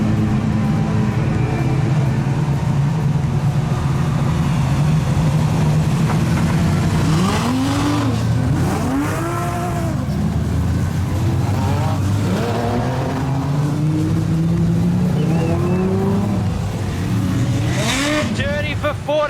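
Speedway race cars roar around the track at Carina Speedway during a Queensland title race, engines revving and rising in pitch as they pass, over a continuous rumble of the field, with a commentator talking throughout.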